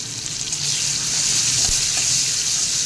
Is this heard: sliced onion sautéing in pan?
yes